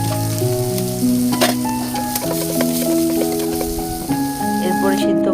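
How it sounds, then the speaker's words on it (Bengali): Shrimp fry with salt and turmeric in hot oil, giving a loud, dense, continuous sizzle with occasional stirring and clinks, while music plays underneath. "চিংড়ি মাছগুলো একটু ভেজে নেব"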